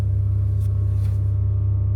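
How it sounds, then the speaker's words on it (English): Steady low rumble from construction work somewhere in the background, a constant droning hum with faint hiss above it, continuous for the whole stretch and fairly loud with no speech over it. "If you could hear something, that's because there's construction going on in the background."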